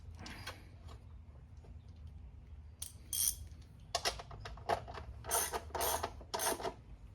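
Socket wrench tightening a rear rack bolt on a Dax125 motorcycle: faint scattered clicks at first, then clusters of close ratcheting strokes over low background hum.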